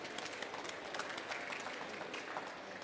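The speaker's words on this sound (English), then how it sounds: "Another round of applause" An audience applauds after a panel discussion at a climate finance event, steady dense clapping throughout, fairly faint and distant.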